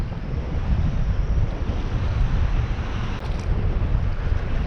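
Wind gusts across West Hawk Lake during a fishing outing, roaring steadily and buffeting the microphone, with low rumbling and faint water lapping underneath and no voices.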